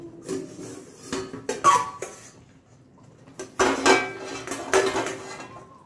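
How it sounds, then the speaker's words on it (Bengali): A lid comes off a cooking pot during spicy home cooking: several sharp metallic clinks and scrapes of lid against pot arrive in irregular bursts, fairly close and moderately loud, with quiet gaps between them. "তো বন্ধুরা এবার ঢাকনাটা আমি এটা খুলে নিই।"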